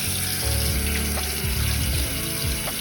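A kitchen faucet runs a steady stream of lukewarm water into a sink to water an orchid, with a continuous close splashing rush and a few brief drips and gurgles over it.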